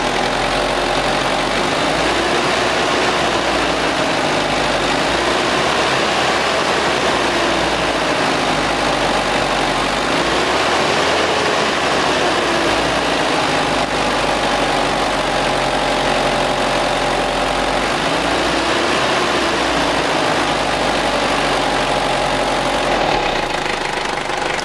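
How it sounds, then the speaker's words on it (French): A Ford Ranger engine runs steadily and loudly, swelling in slow, repeated revs as the throttle is pressed. The sound is close up, with no talking over it. "vous avez vu, il prend super bien ses tours là, juste avec une petite pression là-dessus"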